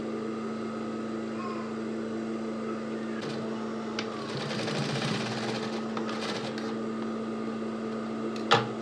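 A sewing machine runs steadily up close, stitching headband fabric pieces together with a constant mechanical hum and a few sharp clicks.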